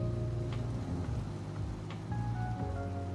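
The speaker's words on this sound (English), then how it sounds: "rain was coming down even more heavily." Heavy rain pouring down in an old town district in The Legend of Heroes: Trails Through Daybreak, a steady dense hiss with a couple of faint thunder-like swells, underscored by soft game music tones.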